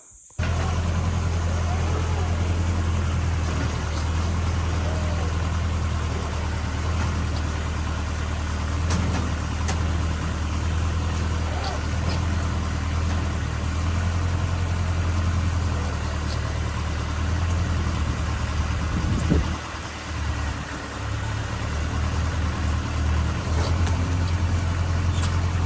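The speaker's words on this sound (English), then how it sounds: "I'm going to see if I can break it off with the tractor now" A tractor engine runs steadily with a deep, loud rumble while breaking off a large oak stump root. The drone holds for about twenty-five seconds and briefly dips near the end.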